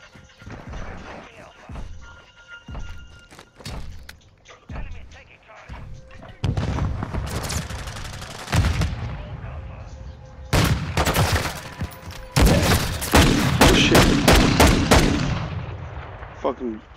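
Rapid gunfire from a Call of Duty: Modern Warfare II match, mixing sniper rifle shots with dense bursts of automatic fire and explosions, loud and close, with sparse clicks early that build to heavy sustained volleys and a voice talking over parts.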